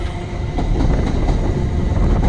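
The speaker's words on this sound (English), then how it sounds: "Oh look, it's a train." A train rolls past close by near Sheerness Bridge, a steady loud rumble of wheels and carriages filling the whole stretch with faint rhythmic clatter, no voices.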